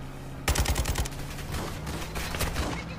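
Rapid bursts of gunfire from the video game Call of Duty Warzone erupt suddenly and loudly, a dense volley of overlapping shots followed by continued scattered fire and echoing reports, with no talk over it.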